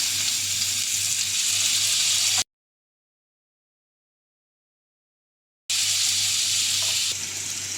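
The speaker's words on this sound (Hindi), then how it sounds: "मैंने कबाब को फ्राई करने के लिए यहाँ ग्रिल पैन लिया है।" Chicken tikka kababs frying in hot oil in a grill pan, giving a steady close sizzle and hiss, cut by a stretch of total silence before the frying returns.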